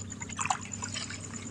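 Water trickles and drips into a leaking wooden fishing boat at sea, a faint, brief splashing dribble over a low, steady background rumble.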